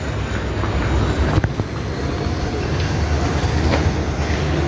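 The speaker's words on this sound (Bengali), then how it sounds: "এই যে ট্রেন যাচ্ছে, এটা হাওড়া দিকে ট্রেন যাচ্ছে।" A train heading toward Howrah rumbling past on a railway line, a loud continuous low roar with faint rhythmic clatter and a couple of sharp metallic clanks, close and unbroken throughout.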